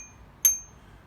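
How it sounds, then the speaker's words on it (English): A single short, thin ding from a weak-sounding bicycle bell rings close by and fades quickly, with quiet background around it. "This bell is a weedy bell."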